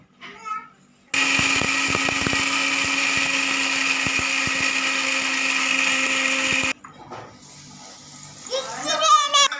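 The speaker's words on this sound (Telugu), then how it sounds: "ఈ పొడి దాన్ని 2 వాయిల్గా మిక్సీ గిన్నెలో వేస్తున్నాం" A mixer grinder grinds a dry spice powder mix with a little asafoetida, a loud, steady whirring drone lasting several seconds; voices speak briefly before it and again after it stops.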